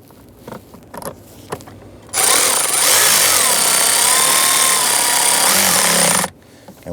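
A power driver runs a screw in during a blower motor resistor and wiring harness repair on a 2011-2019 Ford Explorer, giving a steady loud whirring burst of about four seconds, with quiet clicks and handling before and after.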